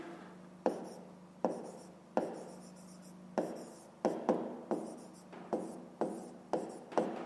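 Pen writing by hand on paper during a fifth-grade maths exercise, heard as close, quiet scratching strokes with a soft tap starting each word, repeating in a steady, uneven rhythm.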